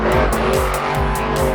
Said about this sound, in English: Sounds like a monster truck.